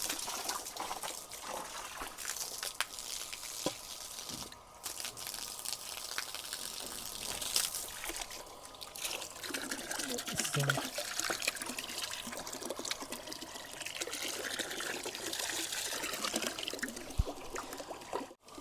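Water flowing out of a hose fed by a homemade DIY water pump, a steady, fairly soft trickling and splashing stream that continues throughout with no voices.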